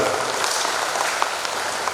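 Crowd applause at a national clan assembly welcoming a regional delegation from Pekanbaru, a soft, even wash of many hands clapping at moderate distance, steady with no voices.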